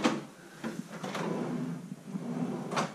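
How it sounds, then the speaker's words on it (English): Drawers under a bathroom sink in a studio apartment slide open and shut, giving a few close scraping and knocking sounds over a steady background rush. "Two drawers underneath the sink"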